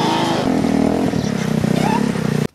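GY6 150cc dune buggy engine fitted with a new muffler, revving loudly and steadily up close for a few seconds with a rough, buzzing exhaust note, then cutting off abruptly.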